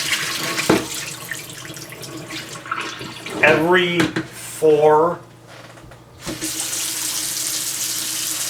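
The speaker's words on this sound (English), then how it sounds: "Fill it with water." Tap water runs into a bowl at a sink, a steady broadband rush heard near the start and again at the end, with someone talking in between.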